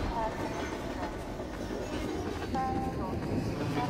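In the video game Half-Life 2, a train rumbles along with a steady low clatter and faint metallic squeals, moderately close, while a voice speaks over it.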